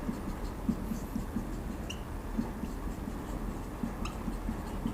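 Marker or chalk strokes on a board as a chemical compound is written, soft irregular scratches and taps in short bursts, faint and close, with no voices.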